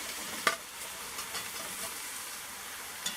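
Long eggplant strips hit hot oil in a pot with a sharp sizzle, then a continuous hissing fry follows, broken by a couple of brief clinks.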